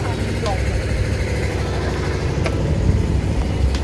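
Motorbikes idle together before a family ride, giving a steady, continuous low engine rumble throughout, with voices faintly audible over it.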